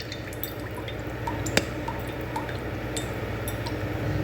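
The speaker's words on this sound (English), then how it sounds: "Letting it drip naturally." Freshly opened coconut water drips through a strainer into a container, a steady patter of small liquid drips with an occasional sharper drop, close and continuous.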